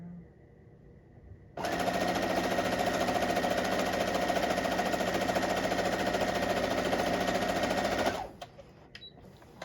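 A sewing machine stitches a quarter-inch seam on quilting cotton, a fast, steady mechanical whir that starts abruptly, runs continuously for about six seconds close by, then stops, leaving faint handling sounds.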